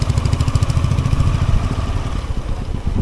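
Motorcycle engines rumble and putter close by on the landslide-damaged NH10 road in South Sikkim, a steady, continuous low throb with rattling clatter, no talking over it.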